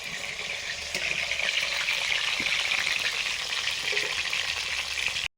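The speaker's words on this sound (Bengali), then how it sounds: "এটাতে করছি ভাজা সব রকমের সবজি, মূলো, ওলকপি, শিম, আর এই যে ছোলা কচুর লতি।" Mixed winter vegetables such as radish, kohlrabi, beans and taro stems fry in a pan, making a steady, close bright sizzle with faint stirring clicks and no talk.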